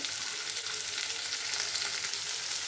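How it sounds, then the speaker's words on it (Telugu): Two large onions, chopped small, fry in a pan over a medium flame with a soft, continuous sizzle and crackle, and no voices are heard. "కొంచెంసేపు వేపుకుందాము మీడియం ఫ్లేమ్లో చేసుకోండి"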